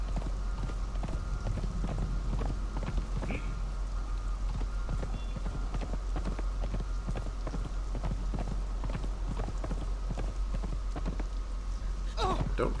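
Steady clip-clop of a horse's hooves in the video game Conan Exiles, a continuous rhythmic trot of close, distinct hoof strikes over a constant low background hum, with no talking.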